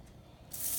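Febreze sprayed onto a garment for a quick home dry clean: a brief, bright burst of aerosol hiss starting after a moment of quiet room tone.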